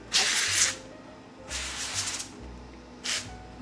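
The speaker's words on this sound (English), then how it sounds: "Spray avocado oil." Three short hissing bursts of avocado oil spray mist onto herbs on focaccia, each about half a second long, close up and otherwise quiet between sprays.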